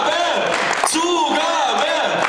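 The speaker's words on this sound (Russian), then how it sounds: "Давайте все вместе под ваши аплодисменты!" An audience at a mentalist show cheers and whoops with applause, a loud continuous crowd roar carrying shouted voices and chanting throughout.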